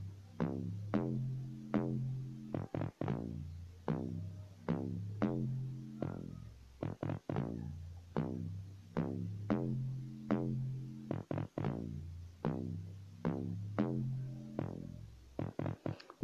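Synth sounds layered with an electro square preset in FL Studio Mobile, a repeating pattern of short plucky buzzy chords in a bouncy amapiano rhythm, steady and alone at a fairly low level.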